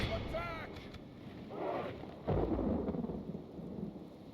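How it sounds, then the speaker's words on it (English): Rain and rolling thunder sound during a dusk battle in Medieval 2, with a steady wash of rain and a couple of low thunder swells mid-clip, fairly faint and continuous, with no talk over it. "It appears to be dusk and rain."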